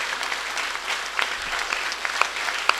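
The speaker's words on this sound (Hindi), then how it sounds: "यह आपकी तालियां भारतीय सेना के शौर्य के नाम" Steady, dense applause from an audience at an all-India poetry gathering held by a municipal council, sustained clapping with a few sharper claps standing out near the end.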